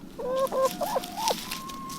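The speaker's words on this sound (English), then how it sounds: "These are our rehomed ex-farm chickens." Rehomed ex-farm chickens cluck close by in a run of short, nasal, pitched calls, then one drawn-out tone trails off.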